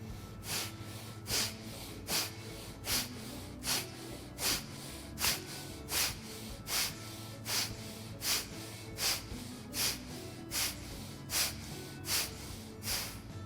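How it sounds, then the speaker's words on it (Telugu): Forceful bhastrika pranayama breathing, done with a yoga danda, comes as a steady series of about sixteen sharp, hissing nasal breath bursts at an even rhythm, close and clear with no talking. "శ్వాస తీసుకోండి, శ్వాసని వదిలేయండి. చేయండి 20 సార్లు."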